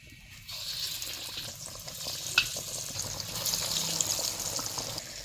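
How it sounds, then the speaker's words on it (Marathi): Dal vada batter dropping into hot oil, giving a soft, continuous sizzle and bubbling with faint crackles, fairly quiet and steady without talk. "आता तेल गरम झालंय आता वडं सोडून घेऊया"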